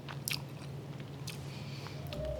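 Close bites and chewing on crunchy pasta alla Norma topped with crispy garlic and shallot, giving a few sharp crunches followed by quieter mastication, soft and intimate.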